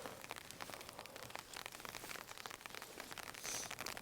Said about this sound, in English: Just hear the rain. It's incredible.